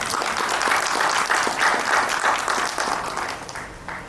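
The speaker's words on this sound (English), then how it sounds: "Let's have a huge round of applause for them." A large audience applauds at a family business event, a dense, steady wash of clapping that holds for about four seconds and eases slightly toward the end.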